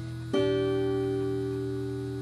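A single guitar chord plucked once, its notes ringing out together and slowly fading, no voices.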